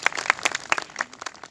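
Applause from a Republic Day program audience at a university. Individual claps are distinct and loosely spaced, sounding like a thin, brief round from a small group.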